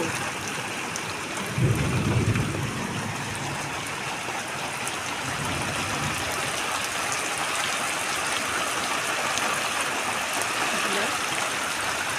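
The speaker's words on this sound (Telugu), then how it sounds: "చూడండి, పిడుగులు పడుతూ ఉన్నాయి. పక్క పిడుగులు, ఒక పక్క మెరుపులు." Heavy rain pours steadily in a thunderstorm, with a deep rumble of thunder rolling in near the start beneath the constant wash of rain. No one speaks.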